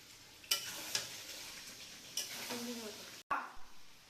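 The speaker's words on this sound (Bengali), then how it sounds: "এখন করবো চিকেন কষা" Chicken kosha being stirred and fried in a pan, with several sharp scraping stir strokes and clinks over a soft sizzle, fairly quiet and close.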